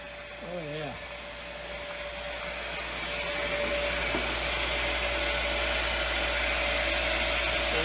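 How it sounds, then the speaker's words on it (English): A water pump, recovering after freezing, runs under building pressure as a steady whirring drone that grows slightly louder over several seconds, with a brief voice near the start. "At least the pump is running."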